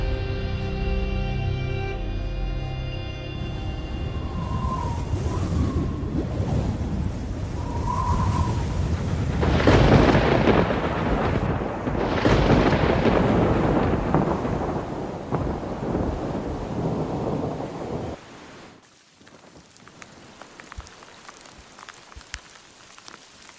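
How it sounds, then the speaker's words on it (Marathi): Heavy rain and gusting wind of a thunderstorm over high, remote mountains near a tiny five-house village in Pune district, a dense continuous roar that swells midway before dropping to quieter patter near the end. "सोसाट्याचा वारा वाहू लागला, काळे कुट्ट ढग गोळा होऊ लागले. चाहूल होती एका मोठ्या पावसाची."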